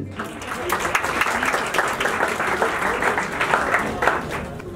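Audience applause greeting a young poet from Kashmir at a mushaira, a full, continuous crowd clapping with distinct sharp claps peppered through, sustained at steady volume for several seconds.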